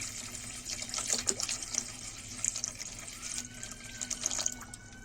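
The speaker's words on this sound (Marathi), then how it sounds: "एका भांड्यामध्ये पाणी घेणार आहोत" Water runs and splashes into a pot in short, uneven bursts, fairly quiet and close, with small drips between pours.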